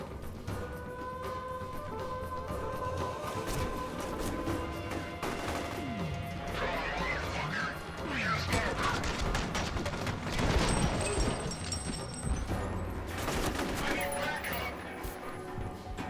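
A particle gun firing in a video game, with bursts of crackling shots and crashes scattered through a busy battle mix, and a voice talking over it.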